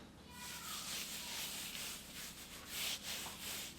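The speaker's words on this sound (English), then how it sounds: "I'm gonna go ahead and put on some gloves and rub it all in and give it a good massage." Gloved hands rub seasoning into a salmon fillet, making a soft, continuous close-up rubbing and squishing sound that is faint and steady, with no talking.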